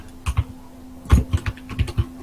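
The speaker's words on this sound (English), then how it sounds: "Who's typing?" Someone types on a computer keyboard while sending an email: a close, irregular patter of sharp key clicks in small bursts over a low steady hum, with no talking.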